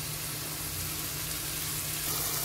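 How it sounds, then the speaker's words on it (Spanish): Chopped vegetables frying in the same oil used to fry prawns for Colombian-style shrimp rice, a steady, soft sizzle with a faint low hum underneath and no voices. "en el mismo aceite que sofreímos nuestros langostinos vamos a sofreír todos nuestros"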